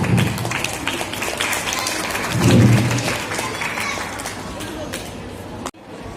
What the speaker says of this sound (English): Welcome them with a huge round of applause.